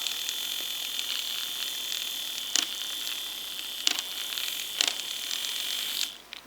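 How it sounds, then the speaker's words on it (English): A handheld electric milk frother whirs steadily with a high, buzzing mechanical tone while frothing coffee, with a few brief clicks or clinks along the way before the motor cuts off near the end. "So I'm going to froth again just so I don't have to mix this up myself."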